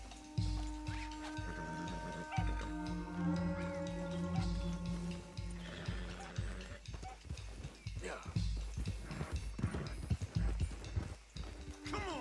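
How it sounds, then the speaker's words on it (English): Arabian horse running in Red Dead Redemption 2, hooves clopping in an irregular, quickening rhythm among game tones and background sounds, with a voice talking faintly at times. "even though the Arabians may be the fastest horses in the game"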